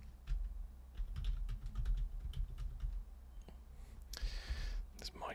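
Rapid keyboard typing close by, a flurry of crisp clicks and key taps, pausing briefly before a few more strokes and a soft rustle.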